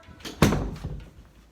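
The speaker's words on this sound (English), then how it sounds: "Close the door." An apartment door shuts with a single firm thud, a sharp knock followed by a short rattling settle and faint room echo, with nobody speaking.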